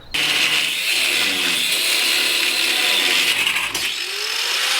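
A loud, continuous power tool whine and rattle runs almost unbroken while a rear strut is removed from a Pontiac GTO, close to the microphone, with a brief dip near the end.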